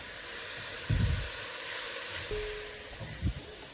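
Mushrooms frying in a pan alongside roast chicken leftovers, heard as a steady, quiet hiss of sizzling with a couple of brief low clatters and one short bump near the end.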